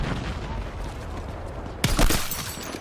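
A grenade detonates in Battlefield 6 as one sharp, loud blast near the end, following steady background gunfire and battle noise.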